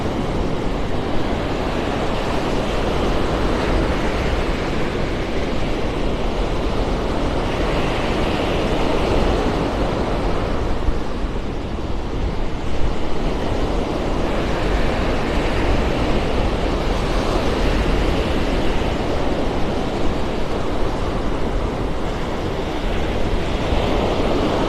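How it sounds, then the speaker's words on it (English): Strong wind buffets steadily by the shore on a beach in North Naples, Florida, a constant breathy roar mixed with the wash of surf, with no voices. "It's windy."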